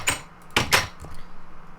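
A door is placed in a block-building video game, giving a couple of short, bright wooden clacks close together, then a faint tap over quiet background.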